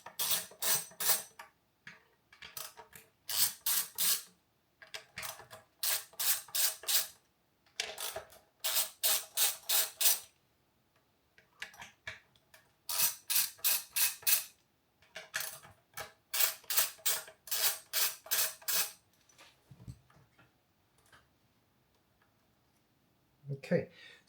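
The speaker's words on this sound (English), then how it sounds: "Usually for the tuners, it's a size 10 socket wrench to actually loosen them." A size 10 socket wrench loosens the tuners on a vintage Ernie Ball MusicMan Silhouette Special guitar, making rapid repeated ratcheting clicks in bursts of a second or two with short pauses between them, close and crisp.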